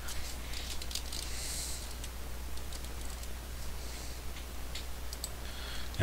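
Typing on a computer keyboard, quick scattered clicks and key taps over a steady low electrical hum, faint and fairly close, with no talking.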